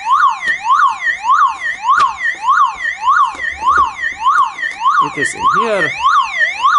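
A car alarm unit, handled with its battery, wails in a steady repeating up-and-down siren sweep, loud and close, shifting to rapid chirping tones near the end while a voice speaks briefly.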